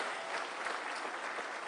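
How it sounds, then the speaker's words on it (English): An audience at a presidential event in Kenya applauds in a brief, steady burst of clapping heard at moderate distance. "A round of applause, kindly"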